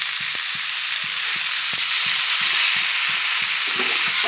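Ridge gourd and other vegetables fry in a pan for a poppy-seed dish, giving a steady loud sizzle with regular soft knocks of a spatula stirring through it.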